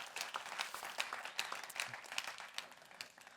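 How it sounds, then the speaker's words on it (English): A modest audience at a health and metabolism talk gives a round of applause, fairly faint, with distinct individual claps pulsing in an uneven rhythm that tapers off toward the end. "Everybody give Sarah a big round of applause."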